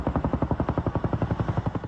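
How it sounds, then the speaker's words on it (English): A firefighting helicopter flying over the Pepperdine campus in Malibu for aerial water drops, its rotor thudding in a fast, even chop, loud and close throughout. "an aerial bucket brigade as helicopters took turns filling up water from 2 ponds on campus for their airdrops"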